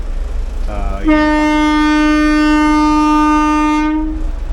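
One long, loud horn blast from a narrow-gauge passenger train, held steady for about three seconds before cutting off, close by.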